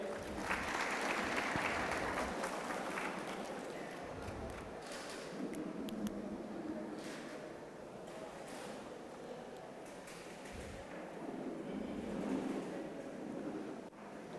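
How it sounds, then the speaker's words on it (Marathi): An audience at a grape-farming talk on microbial solutions breaks into applause for an agricultural service centre's director, a steady wash of many hands clapping that swells and fades over about fourteen seconds, somewhat distant. "त्यांनी आयोजन केलं त्यासाठी जय बाबाजी कृषी सेवा केंद्राचे जे संचालक आहेत अमोल डोमसे सेठ यांना आपण सर्वांनी जोरदार एकदा टाळ्या वाजायच्या आहे"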